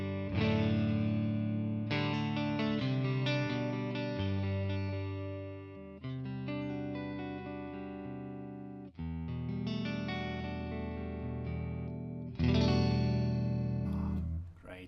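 Electric guitar played through a Tonex One Phoenix Clean Fat amp model, ringing out full strummed chords in several sustained phrases, each left to decay before the next, loud and alone with no talk.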